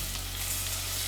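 Bacon fries in a pan with a dense, even sizzle that holds steady at moderate loudness for a brief moment, with no talking.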